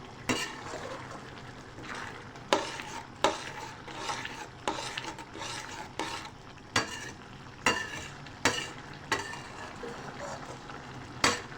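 Egg and chickpea curry with green chilli and coriander cooks on high heat, with a low sizzle broken by repeated sharp scrapes and knocks of a spoon against the pan, no talk.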